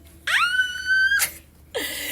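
Two loud, high-pitched screams close by: a long piercing cry that rises and then holds steady, a short pause, then a second scream starting.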